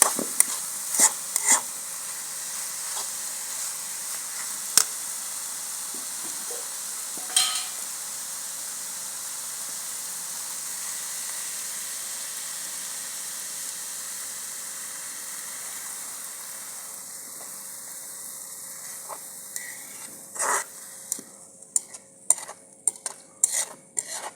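Pumpkin for village-style Punjabi halwa roasts in a pan under a soft continuous sizzle, with a spoon scraping and clinking now and then, growing more frequent toward the end; no voices.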